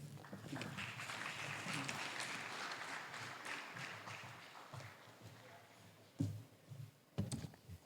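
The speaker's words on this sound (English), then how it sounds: "Another round of applause." Guests at a formal dinner for an African first ladies' peace mission general assembly give a sustained round of applause that fades out. A few louder thumps and noises follow near the end.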